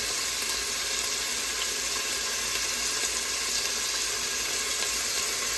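Chicken and biryani paste sizzle in an oiled pan, a steady loud hiss and crackle that holds evenly throughout with no talking.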